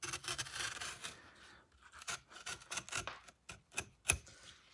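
A small knife scrapes and cuts through the skin of a green plantain in a kitchen, close, uneven rasping strokes and sharp scratches coming in bursts, with no talk.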